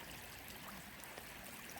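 A snowy creek flows with a steady, soft rushing and trickling, faint and continuous over a short stretch, with no voices.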